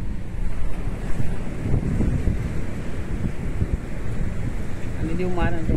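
Rough, stormy sea at Tramandaí beach near the rocks by Imbé gives off a steady, loud roar of surf mixed with heavy wind buffeting the microphone.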